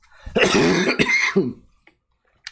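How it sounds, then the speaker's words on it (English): Someone close by gives a burst of harsh coughing and throat clearing, then a short pause and a faint final cough. "Got me coughing."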